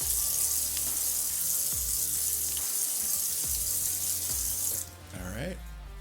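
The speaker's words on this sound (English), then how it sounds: "I'm going to take cold water and rinse this off." A bathroom tap runs cold water to rinse a wet-shaving razor, a steady close splashing stream with brief clinks of the razor against the basin, then the flow drops away near the end.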